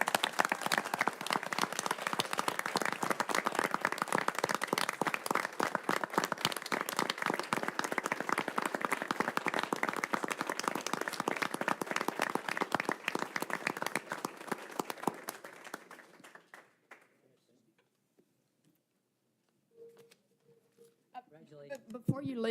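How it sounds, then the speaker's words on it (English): Town council meeting audience gives a sustained round of applause for new appointees, dense steady clapping that tapers off and ends, followed by a brief voice. "if everyone would please give us a round of applause"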